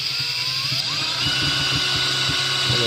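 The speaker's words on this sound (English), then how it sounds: "make sure if you're going to be drilling into plexiglass to pre-drill first" Power drill pre-drilling into plexiglass while repairing an old animal enclosure, a steady high motor whine with pitch shifts and faint knocking, close and continuous.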